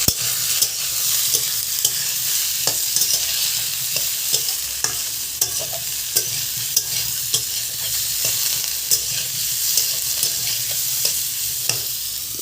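Food fries in a pan seasoned with turmeric and salt, a constant hiss of oil under regular scraping and tapping strokes of a spatula stirring it, close and steady throughout.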